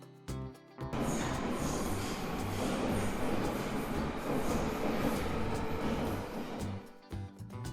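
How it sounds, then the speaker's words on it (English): A subway train rolls past on its tracks, a loud, steady rumble with rattling wheels that sets in after a quiet opening and fades slightly near the end. "Subway."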